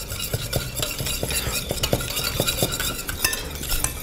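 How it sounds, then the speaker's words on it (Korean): Butter sauce being stirred slowly in a pot over very low heat, with a rhythmic series of sharp utensil scrapes and clinks against the pot, close and clear, with no voices. "저어주시면 됩니다."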